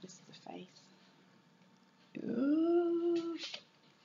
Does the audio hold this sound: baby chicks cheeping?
no